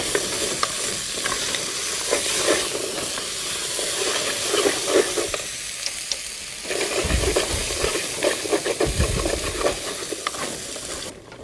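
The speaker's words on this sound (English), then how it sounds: "We're going to saute all these vegetables together for about 5 minutes." Vegetables with spices sizzle and hiss steadily in a hot pan while being stirred, a close, continuous frying sound with occasional scraping and low thumps toward the end.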